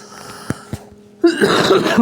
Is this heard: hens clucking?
no